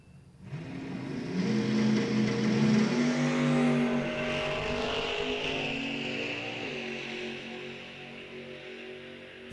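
Two drag racers, an S10 pickup and a Gen 3 Camaro, launch side by side in a bracket race, their engines a loud, close, sustained roar that swells quickly and holds steady before gradually easing off.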